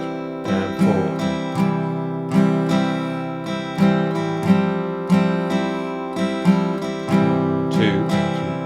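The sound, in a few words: guitar strumming pattern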